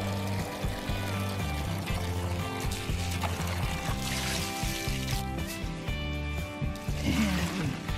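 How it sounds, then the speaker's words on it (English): Water pouring and splashing while a rock tumbler barrel is rinsed out, a steady running wash under a loud low droning background. "Go ahead and wash off the barrel first."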